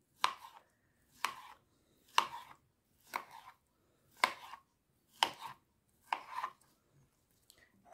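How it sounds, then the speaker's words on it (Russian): A knife cuts repeatedly through a soft, wet, slippery exotic fruit, about nine steady strokes roughly one second apart, close and clear with no talking. "Нарезаем его вот такими дольками."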